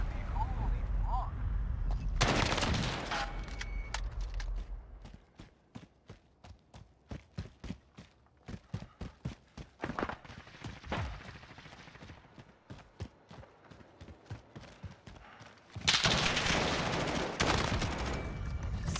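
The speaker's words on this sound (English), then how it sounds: "How many people are gonna be shooting at me?" Video game gunfire in heavy bursts at the start and end, with rapid single shots and sparse cracks in between, loud and near.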